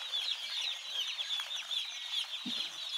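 Newly arrived broiler chicks in a prepared brooder with paper and water, peeping in a dense, continuous high chorus at moderate-to-soft level, with one brief low thump partway through and no voices.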